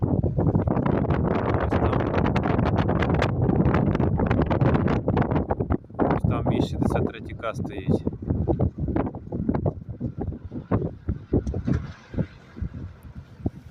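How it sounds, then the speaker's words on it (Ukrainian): Strong wind buffets the microphone in heavy rumbling gusts beside a Liebherr 102K tower crane, with someone speaking briefly over the roar. "Сьогодні вітер неймовірний."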